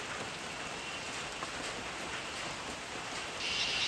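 Steady rain falls at a construction site where plastering work carries on, a dense even hiss of drops that grows slightly louder near the end, with no voices.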